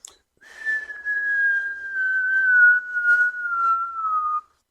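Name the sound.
imitated cartoon whistle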